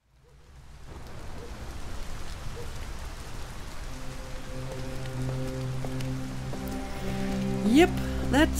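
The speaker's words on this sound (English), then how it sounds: "And it's raining again." Rain falls steadily in the video game Detroit: Become Human, a dense hiss of drops on surfaces with faint tonal game music and effects rising near the end.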